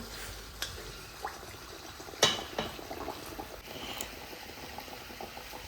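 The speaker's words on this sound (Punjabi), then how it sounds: "ਫਿਰ ਮੈਂ ਤੇਲ ਵਿੱਚ ਛੱਡਦੀ ਕਚੌਰੀ" Potato-stuffed kachori sizzling in hot oil, a steady bubbling frying hiss with a few light clinks of utensils and one sharper burst of crackle partway through, moderately close and with no talking.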